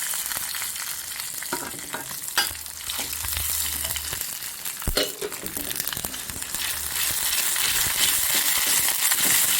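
Shrimp thokku ingredients sautéing in a pan, a steady close sizzle with scraping stirs and occasional clinks throughout, no voices.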